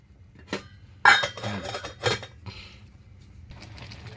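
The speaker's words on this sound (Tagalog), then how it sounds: "Tatakpan natin mga kuys ulit para maluto muna ng konti" A metal lid is set onto a cooking pot with a few sharp clanks and clinks, scattered bursts of metallic rattling close by, followed by softer shuffling.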